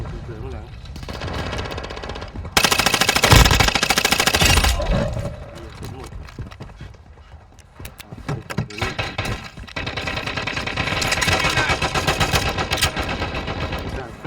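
Rapid bursts of machine gun fire rattle in quick succession, loud and sharp, with a talking voice and other game noises mixed in.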